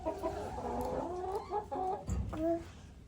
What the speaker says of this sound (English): We're starting off strong in the chicken coop.